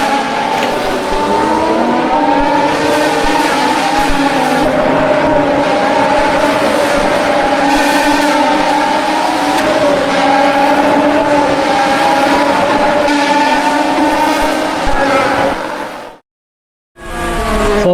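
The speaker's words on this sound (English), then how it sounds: "Drivers now racing to the start to the timing line to start their final flying laps of the session." Formula 3 race cars on flying qualifying laps at an Australian circuit scream along at a steady high pitch, one engine note holding close and sustained before a brief cut to silence near the end.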